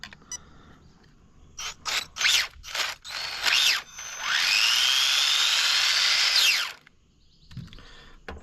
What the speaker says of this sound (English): Nope, I think I stripped that gear